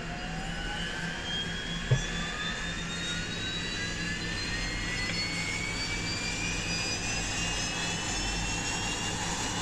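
Right turboprop engine of a Dash 8 Q400 running in the X-Plane 11 flight simulator, a steady loud drone with rising whining tones sustained throughout, plus one brief click near the start.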